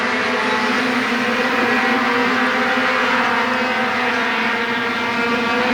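Outlaw Midget race cars roar around Flamboro Speedway early in a 25-lap feature, their engines merging into a loud, continuous droning whine that holds steady throughout.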